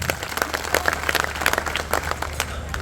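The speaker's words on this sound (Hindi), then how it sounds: "ताली बजाओ अपने लिए एक बार।" A crowd at a political rally breaks into sustained applause, a dense patter of many clapping hands that continues evenly for a few seconds at moderate loudness, with no voices over it.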